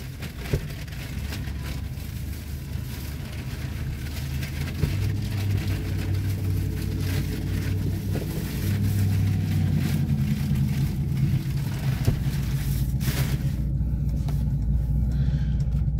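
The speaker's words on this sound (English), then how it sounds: "some guy always has to pull up with their truck next to me" A truck pulls up close by and idles, its steady low engine rumble running continuously and loud throughout, with a slight rise partway through.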